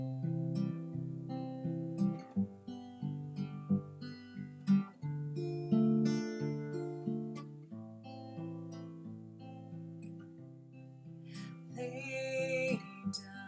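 Acoustic guitar fingerpicking an alternating outside-inside pattern, two passes per chord through a verse progression of a song, steady and close, alone with no voice.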